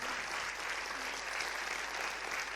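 Steady, dense theatre audience applause before an amateur comedy performance, even and sustained throughout without talk.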